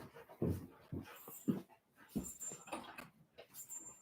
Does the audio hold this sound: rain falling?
no